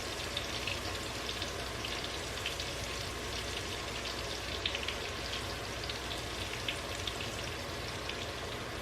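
Floured shrimp fry in a pan with a continuous crackling sizzle and scattered pops, steady and close throughout.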